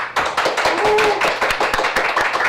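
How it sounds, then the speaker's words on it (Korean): Audience at a Korean book talk show clapping in welcome for a guest author, a burst of close, steady hand claps filling the room for a couple of seconds. "박수로 맞아주십시오."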